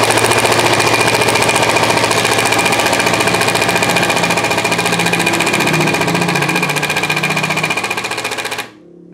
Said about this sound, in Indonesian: Kita akan coba untuk mode yang bor biasa ini ya, lambang bor ya, atau lambang screw ya.